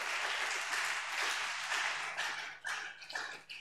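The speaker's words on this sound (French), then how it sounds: "Acclamons encore pour Jésus." A church congregation applauds during a sermon, dense clapping spread across the room that runs continuously and then breaks into uneven bursts near the end, with no voices over it.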